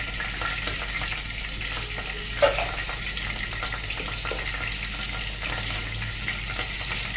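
Curry leaves dropped into well-heated oil for a tempering in an Indian home kitchen, a close, steady crackling sizzle with a brief sharp spatter near the middle.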